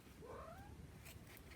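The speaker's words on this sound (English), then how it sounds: "Hello cat." A house cat gives a single faint meow, a short rising-and-falling call heard indoors against a quiet room.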